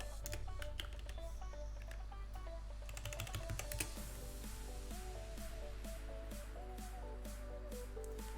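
Typing on a computer keyboard during a programming session, scattered soft key clicks in irregular bursts under steady background music and hum, fairly faint.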